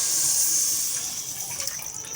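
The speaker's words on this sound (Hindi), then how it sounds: "इसके अंदर थोड़ा सा पानी ऐड करेंगे ताकि हमारी कड़ी अच्छे से पकती रहे" Water pours from a vessel into simmering kadhi pakora on the stove, a steady hissing splash that stays fairly quiet and continuous for a couple of seconds, with no talking.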